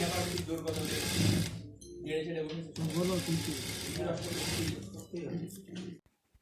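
A sewing machine stitches hand-knit socks in short rapid bursts of whirring needle chatter separated by brief pauses, close and clear, ending abruptly.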